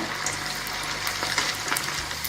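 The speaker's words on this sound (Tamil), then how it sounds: "இப்போ நம்ம தட்டி வச்சுக்கிற வடையை எண்ணெயில் போட்டுக்கலாம்." Chicken vada patties sizzling in hot oil for a Tamil snack, a steady close crackling fry with occasional louder pops and no talk.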